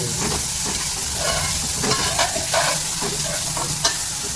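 Onion with salt and ginger frying in oil for mushroom biryani, a loud continuous close sizzle with stirring scrapes and light pops, no speech.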